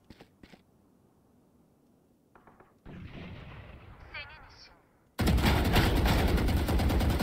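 Gunfire in the video game Valorant: a few sharp isolated shots, then a denser stretch of rattling fire, ending in a loud sustained burst of rapid shooting close up.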